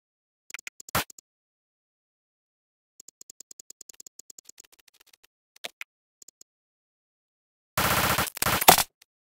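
Gunfire in the Roblox game Arsenal, a sharp single crack followed by short clicky rapid bursts, then a loud dense burst of automatic fire near the end, with silence in between.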